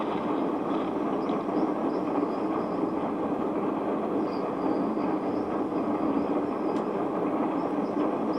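Train in the Limbo video game, a steady, heavy rumble with a faint metallic rattle and squeal over it, continuous and fairly loud with no talk.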